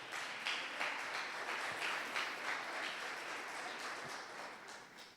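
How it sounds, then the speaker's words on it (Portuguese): A church congregation claps loudly together in worship, a broad wash of many hands applauding at moderate distance with a few sharper claps standing out, and no speech on top. "E se você crê comigo, aplauda Jesus bem alto"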